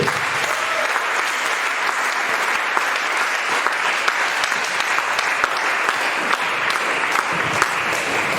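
A church congregation applauding the Lord, a dense, steady crowd clapping that fills the space evenly and continues without a break.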